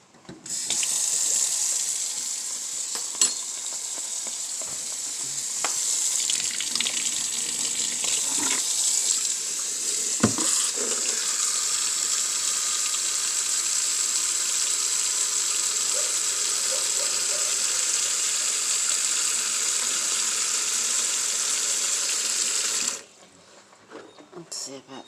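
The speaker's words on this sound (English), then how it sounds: "Let me get some more water." A kitchen tap runs steadily into a cooking pot, a continuous rushing stream with a few small clinks. The water lasts about twenty-three seconds, then shuts off, and some faint quiet sounds follow.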